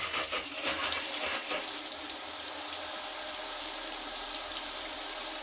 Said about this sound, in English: So that's the shower running.